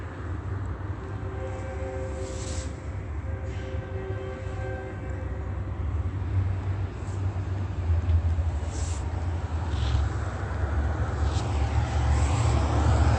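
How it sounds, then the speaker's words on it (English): A Union Pacific train rumbles past at a moderate distance, a low sustained roar that builds in loudness with faint tonal squeals layered over it. "That's Union Pacific. The sound of the train."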